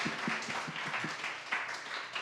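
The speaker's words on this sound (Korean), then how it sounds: "하나님께 박수 올려드리겠습니다." A church school gathering at the close of a prayer breaks into applause, a soft patter of hands with several distinct claps near the start, quiet and somewhat distant.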